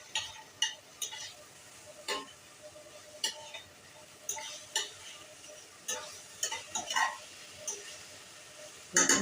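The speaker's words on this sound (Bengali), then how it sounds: "ওটা দিকে আমার মাছগুলো দিয়ে দিচ্ছি মশলার মধ্যে" Fish being stirred into spice paste in a pan for a Bengali tomato fish curry, with repeated scraping and clinking of a spatula against metal over a low sizzle, steady and close.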